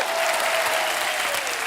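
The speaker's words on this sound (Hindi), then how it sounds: "जोरदार तालियां होनी चाहिए।" Studio audience on a TV comedy show gives steady applause, a dense wash of clapping at moderate volume with a faint tone running beneath.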